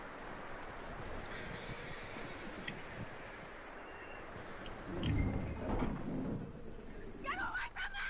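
Faint rhythmic horse hoof clip-clops in Red Dead Redemption 2 over soft outdoor ambience, with a brief muffled voice and a louder thump partway through.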